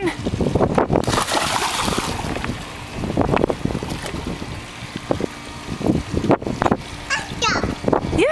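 A toddler jumps into a swimming pool, with splashes and water noise amid wind buffeting the microphone, while an adult voice talks encouragingly throughout.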